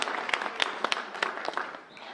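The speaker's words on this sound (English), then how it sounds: "So big round of applause for them" An audience claps for a performing team at a school concert, a crowd of hands making a dense patter with cheering voices mixed in.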